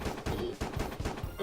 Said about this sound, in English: mostly what I'm hearing is the gunshot